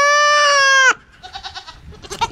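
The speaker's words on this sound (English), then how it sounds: "Still the least friendly goat we've ever had." A young buck goat on a farm lets out one loud, sustained, tonal bleat close by, followed by softer rustling and faint bleating fragments.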